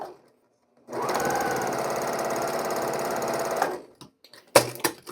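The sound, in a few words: sewing machine chain-piecing quilt squares along diagonal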